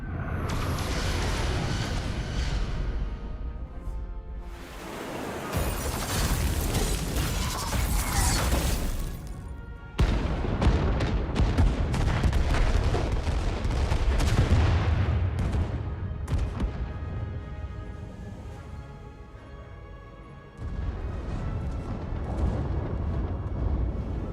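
Starship weapons pound an enemy vessel in Star Trek: Resurgence, with heavy sustained blasts, rumbling impacts and mechanical whirs in loud waves separated by brief lulls.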